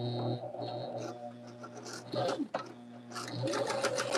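A sewing machine chain-pieces quilt block patches, stitching in short close runs that stop and start, with brief handling rustles between bursts.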